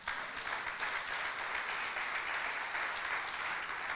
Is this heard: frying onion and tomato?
no